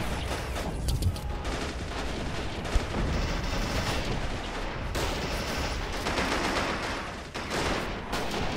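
Dense machine-gun fire and rifle shots crackle continuously through a WWII video game battle on the outskirts of Stalingrad, a loud, unbroken fusillade with scattered heavier bangs.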